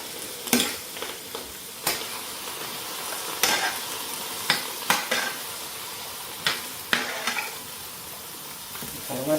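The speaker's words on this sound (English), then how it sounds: "Let me mix that up now. I use the spoon for that." A cabbage stir-fry with salmon, chickpeas and cauliflower being stirred in a pot with a metal spoon, a soft sizzle under sharp, irregular scrapes and clanks of metal on the pot, close and fairly loud.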